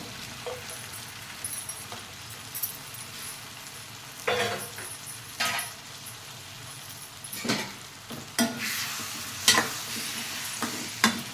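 Broad bean seeds sizzle in hot oil in a pan, a steady frying hiss broken by several louder scraping stirs and clinks of a spoon, close and without talk.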